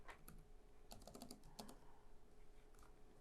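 Fingers type on a computer keyboard in quick irregular bursts of key clicks, close and fairly quiet, with short pauses between clusters and no talking.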